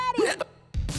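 A cartoon character hiccups in a short burst of squeaky vocal hics, followed by a brief pause and a thump, loud and close.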